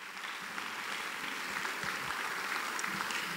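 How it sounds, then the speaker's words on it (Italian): An audience at an international violin competition applauds the competition staff, with dense, even clapping that stays at a steady moderate level from start to finish. "io farei veramente un grande applauso a tutto lo staff"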